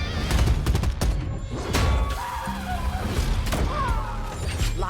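Shotgun fire in Warzone / Black Ops 6, several heavy booming blasts and rapid bursts in quick succession against a busy game soundscape, with no talking.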